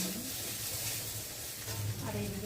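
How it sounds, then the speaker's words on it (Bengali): Soybean chunks fry in a wok, giving a steady close sizzle with light stirring and scraping throughout. "সয়াবিনটা ভাজা হচ্ছে।"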